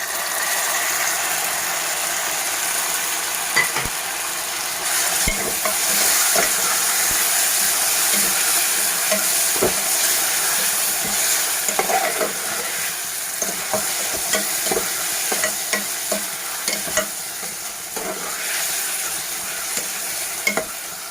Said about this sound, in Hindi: उसके बाद हम इसको अच्छे से इसमें फ्राई करेंगे।